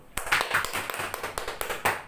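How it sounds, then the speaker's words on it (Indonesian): Short burst of classroom applause for a student, a scattering of hands clapping unevenly for about two seconds, fairly quiet and indoors. "Tepuk tangan dulu dong untuk Nurul."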